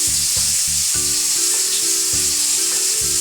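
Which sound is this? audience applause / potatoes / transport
potatoes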